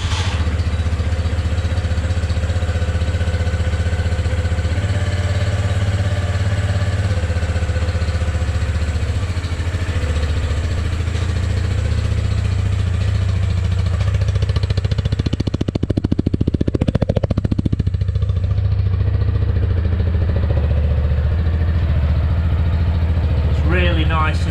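A motorcycle engine idles without revving, a steady low throb lasting throughout, with someone talking over it and a brief clattering burst partway through.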